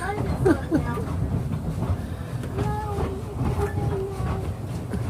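A narrow gauge train on the Cripple Creek and Victor railroad rumbles along steadily with a rhythmic clatter of wheels on track, metallic squeaks rising now and then, while people talk over the noise.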